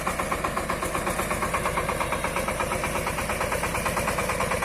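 A sprayer runs on a Shifeng 240 mini tractor, its engine chugging in a steady fast rhythmic throb close by, with a continuous hiss and no talking.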